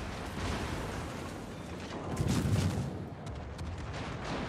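Naval gunfire from an enemy Smolensk cruiser in the World of Warships video game, a rumbling, distant-sounding salvo that swells around the middle and fades over a steady low background roar.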